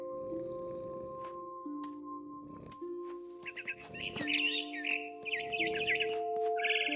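Bird chirps in the video game What Remains of Edith Finch, a series of quick high tweets in the second half over a soft sustained musical score with low tones and faint rustles.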